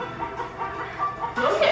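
A chicken clucking in a steady, low, continuous stream of short murmuring clucks at moderate level, with a louder, sharper squawk near the end, heard alone without talk.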